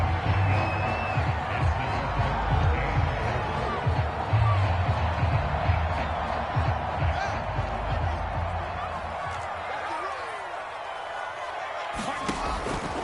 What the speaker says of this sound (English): You can already start to hear this crowd.